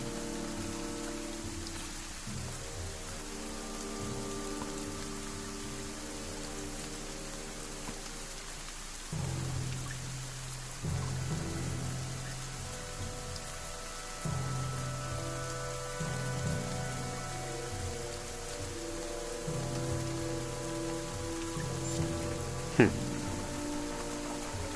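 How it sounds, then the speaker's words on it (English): Steady rain and wet mud ambience in the video game Banner Saga, a constant soft hiss running under game music and narration throughout, with a brief sharper accent near the end. "Clansmen of Brawl follow you through the worst rain and mud you've experienced."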